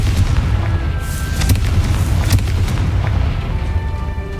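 Fiery spell explosions in the Hogwarts Legacy video game, with dense rumbling booms and a few sharp blasts rising above a loud, continuous low roar of battle.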